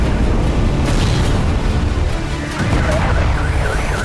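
Loud, continuous rumbling blast noise from the bombing of residential buildings, a dense roar without pauses that eases off slightly midway.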